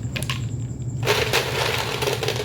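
Ice cubes drop into a container of sweet black grass jelly drink with liquid sugar, a sudden dense crackle and clatter that starts midway and keeps rattling close up after a quieter lead-in.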